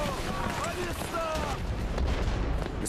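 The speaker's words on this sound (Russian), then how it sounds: "Батарея открыла по нам огонь." An artillery battery fires on a ship, heavy booming gunfire rolling continuously under a noisy wartime scene, with tonal whistles and shouts mixed into the dense, steady din.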